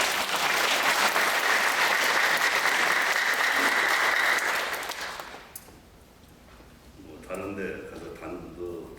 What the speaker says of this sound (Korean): 이 예배를 드리기 전에 우리 하나님께 감사의 박수를 먼저 보내겠습니다